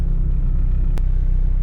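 A car pulls away hard from a red light in first gear, a deep, loud engine rumble that holds steady and close throughout, with one brief sharp click partway through.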